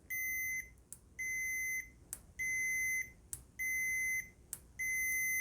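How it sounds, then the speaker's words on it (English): Five shrill electronic beeps from a Brymen BM869S multimeter continuity check, each under a second long, repeating at a steady pace with faint clicks between them. "Once I connect, it'll be a while before you hear the beep."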